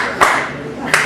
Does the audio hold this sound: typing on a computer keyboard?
no